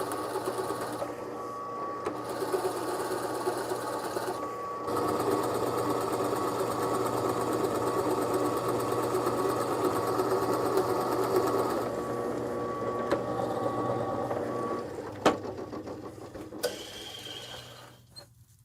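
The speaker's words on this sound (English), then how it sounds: "I've got a 3/4 inch Forstner bit in the drill press." Drill press with a 3/4 inch Forstner bit cutting into black walnut, a steady mechanical whirring hum lasting most of the stretch, then easing off, with a couple of sharp knocks near the end.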